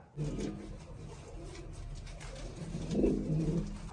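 Pigeons coo in soft, low repeated calls, two bursts a few seconds apart, fairly close against a quiet background.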